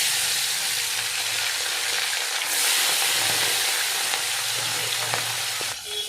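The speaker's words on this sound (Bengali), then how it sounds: "তেল গরম হয়ে গেছে, এবার মাছগুলো দিয়ে দেবো।" Turmeric- and salt-coated fish pieces frying in hot oil in a wok, a dense, continuous close sizzle that swells midway and holds steady.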